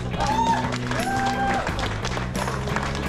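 An outdoor crowd at a bridge-run awards ceremony claps for the first-place winner, a continuous, fairly loud patter of many hands mixed with background music and tones from the event sound system.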